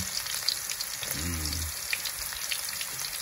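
Garlic frying in a pan over a butane or wood fire, a soft, steady crackling sizzle with faint popping throughout.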